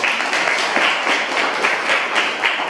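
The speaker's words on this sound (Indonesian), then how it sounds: "Untuk presentasinya kita berikan dulu tepuk tangan." A school class gives a round of applause after a student presentation, a continuous wash of many hands clapping together at a fairly loud, even level.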